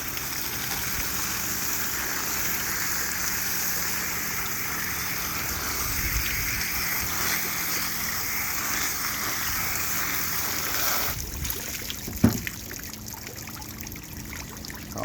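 Tap water trickles and splashes steadily while a spotted seatrout fillet is rinsed, a continuous close stream that shifts tone near the end with a brief knock.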